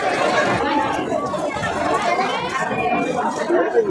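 Dense chatter from a large crowd of devotees fills the air at the Raiganj Ashtami bathing fair, a steady close-by murmur of many overlapping voices with children among them.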